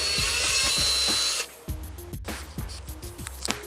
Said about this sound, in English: I'm going to use just a typical drill bit, and I'll just be sure to go slow